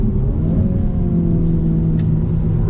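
A 2020 Mini JCW Clubman with all-wheel drive downshifts under braking, its engine a loud, steady low drone heard from inside the cabin with no voices.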